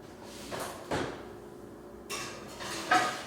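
A pan of bacon-wrapped stuffed chicken being slid into an oven: a few sharp metallic clanks and knocks of the rack and door, spaced out over a few seconds, close and moderately loud.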